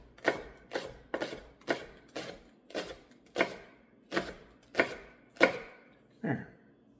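A chef's knife chops steadily on a cutting board while seafood stock ingredients are prepared: about eleven crisp, evenly spaced knocks, close and clear, with no voices.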